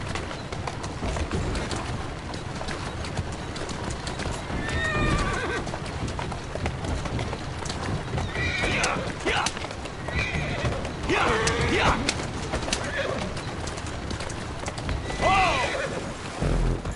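Horse neighing and whinnying with clip-clop hooves in the Assassin's Creed Syndicate video game on PS4, several whinnies over a dense, steady bed of game ambience with birds cooing in the background.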